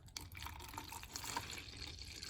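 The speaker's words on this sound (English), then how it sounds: "let's pour a little antifreeze in here." Antifreeze is poured into a cup while checking coolant on a 1970 Mach 1, a thin, faint trickle and splash of liquid lasting a couple of seconds.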